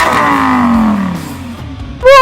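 A supercar engine lets out a loud, roaring rev that winds down over about two seconds, then a fresh, sharp burst of engine noise cuts in at the end.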